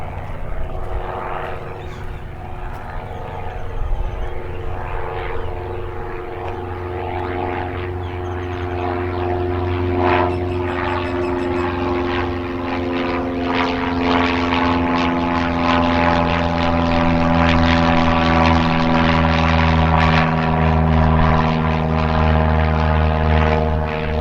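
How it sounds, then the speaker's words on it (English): A propeller airplane flies overhead near an orange grove park in Mesa, Arizona, its steady droning engine growing slightly louder as it passes, heard alone with no talk. "Oh, there's another plane coming."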